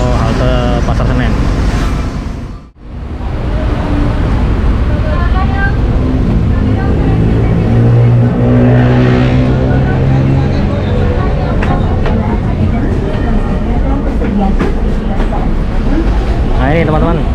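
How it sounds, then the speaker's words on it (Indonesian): A ride aboard an articulated Transjakarta city bus, with a steady engine drone and road rumble throughout and a brief dip in the noise early on, while people talk over the hum. "naik bus gandeng kita ya"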